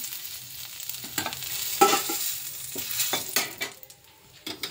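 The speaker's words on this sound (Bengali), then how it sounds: "দিয়ে দিচ্ছি আর একটু তেল, যেহেতু কই মাছ তাই তেলটা লাগবে। দুটো তেজপাতা দিয়ে দিলাম" Bay leaves and cumin crackle in hot oil for a koi fish curry, a close, busy sizzle broken by sharp spits and several scraping stirs of a spatula against the pan.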